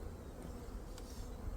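Honey bees swarm-buzzing inside an opened hive in early spring, a dense steady drone filling the whole moment at close range with no voices.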